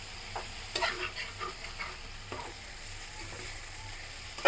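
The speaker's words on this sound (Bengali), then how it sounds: "সিমটা আর একটু ভাজা ভাজা করতে হবে।" Flat beans (shim) fry in a pan for a village-style Bengali bharta, with soft sizzling and a few light scraping stirs at close range. No one speaks.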